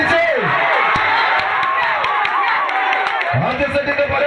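Fans cheer and clap at a volleyball final between Grand Star Pulikkal and Kavitha Vengad at Kuttippala, a dense, steady crowd roar with scattered claps and whoops throughout.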